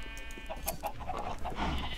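A Minecraft sheep bleating in short, faint repeated calls over a soft steady background, no talking.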